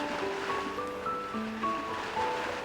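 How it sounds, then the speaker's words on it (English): Steady ocean waves and surf wash in a continuous, breezy roar on a seaside scene in the video game Love and Deepspace, with soft tonal game music notes floating over the water noise. "why do I hear waves on your end?"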